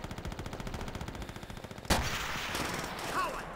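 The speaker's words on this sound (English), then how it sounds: "I need to kill him with one shot." Rapid machine-gun fire from a Call of Duty: World at War campaign battle rattles in a steady, fast burst for about two seconds, then a single loud rifle crack cuts in, followed by a dense wash of combat noise.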